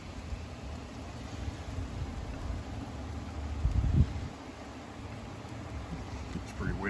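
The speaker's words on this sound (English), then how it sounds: "It's pretty windy out." Strong wind from Tropical Storm Ian roars steadily outdoors as a broad, continuous rush, with a louder gusty buffet of the microphone midway and rain likely mixed in.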